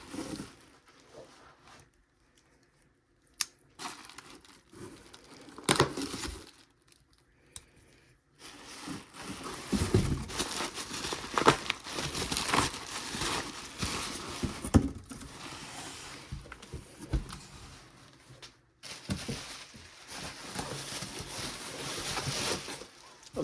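An HP ZBook 15 laptop being unpacked from its shipping box: intermittent rustling, crinkling and sliding of packaging material at close range, with quiet pauses between bursts of handling.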